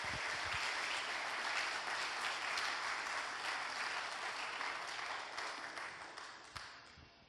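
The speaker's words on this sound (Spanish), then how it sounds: "Dele un aplauso al Espíritu Santo por su palabra." A church congregation applauds together, a broad wash of clapping that holds steady and then gradually fades away toward the end.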